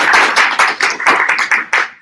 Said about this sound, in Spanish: Un aplauso para Víctor, señores.